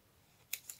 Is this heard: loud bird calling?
no